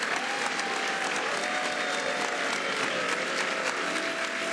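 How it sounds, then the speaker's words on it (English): Sustained applause rings through the European Parliament chamber after a vote, a dense even wash of clapping with a faint tonal hum beneath, steady and unbroken. "shall we listen to the moment when they applauded for a change in laws over there in Europe?"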